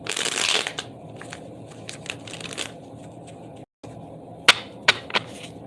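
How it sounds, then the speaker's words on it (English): Tarot cards shuffled by hand in quick riffling bursts, a dense flurry at first, then sparse sharp snaps and taps near the end, close up with no talk. "I'm going to shuffle the cards just a little bit more."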